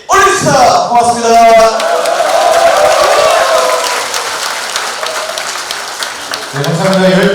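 A loud crowd at a political rally for a presidential election claps and cheers, with a voice booming over a PA system early on and again near the end, while the clapping rolls on underneath.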